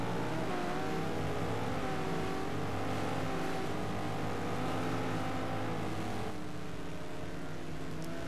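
Race cars from a video game at the Kyalami circuit roar continuously at close range, several engines layered into a dense, sustained drone that shifts pitch slightly throughout.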